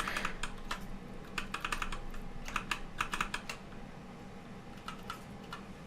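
Computer keyboard typing of dialogue text, heard as bursts of quick, close clicks in short irregular runs with brief pauses, no talk.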